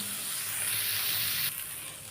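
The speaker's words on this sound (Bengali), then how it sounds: "উচ্ছেটাকে ভাজা করতে হবে বসিয়ে বসিয়ে নাহলে ভেতরে কাঁচা রয়ে যাবে" Bitter gourd frying in a pan over low heat gives a steady, soft sizzle that runs the whole time with no voices, and the hiss eases slightly near the end.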